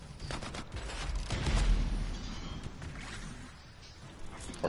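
Bursts of rapid explosions and weapon fire from the Divine Vengeance ability in the Anthem video game, a dense crackling volley that swells in the middle and then tapers, fairly quiet and without talk.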